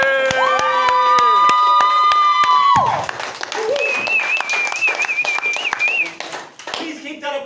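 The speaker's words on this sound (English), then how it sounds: "Please keep that applause going." Applause and cheering from an audience at a comedy show, loud dense clapping with shouts throughout, with a few sustained tones over the first few seconds.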